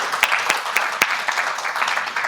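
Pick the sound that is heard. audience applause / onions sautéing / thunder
audience applause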